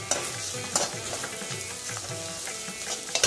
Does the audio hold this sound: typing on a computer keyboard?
no